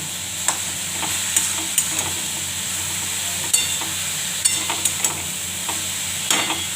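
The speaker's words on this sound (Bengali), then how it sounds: "এবার ভালো করে নাড়ব" Steady sizzling of cabbage, potato and tomato frying in a pan, with scraping stirs every second or so, close and fairly loud, no voices.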